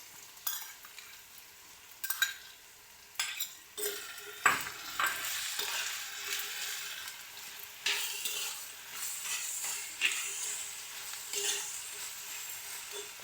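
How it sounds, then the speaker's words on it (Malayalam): Prawns frying in a pan for a Kerala theeyal, with steady sizzling and repeated spoon stirring and scraping, close and fairly loud with no talk. "ഇനി ഇതിലേക്ക് നമ്മൾ ഈ കൊഞ്ചിട്ട് കൊടുക്കണം."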